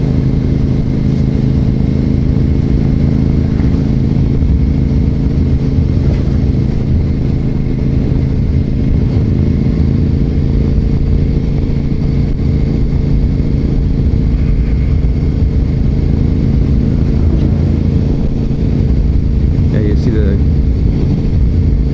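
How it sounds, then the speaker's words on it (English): Heavy-duty dump trucks carrying gravel rumble nearby, a loud, continuous low engine drone that stays steady without pause. "Heavy-duty dump trucks carrying the gravel out."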